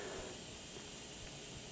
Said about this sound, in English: it's not bad for it to be venting some steam right there